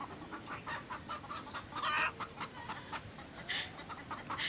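Chickens cluck in a short, irregular series of calls with a noisy rural background, the loudest bursts near the middle and toward the end, and no talking.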